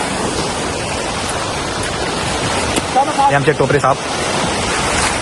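Floodwater surges past a bridge in Chiplun during a flood, a loud, continuous broadband roar that never lets up, while someone speaks briefly partway through.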